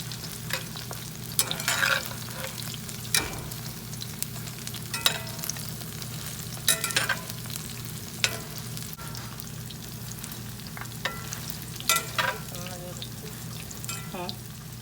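Mini corn pieces fry over moderate heat in a pan, a low steady sizzle broken by repeated scraping and clacking as they are stirred, close and quiet.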